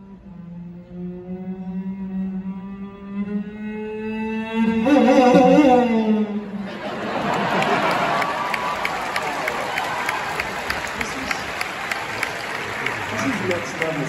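A cellist and sound-effects artist imitates a motorcycle with his voice, a rising, revving drone, at a live concert, then the crowd breaks into cheering and applause.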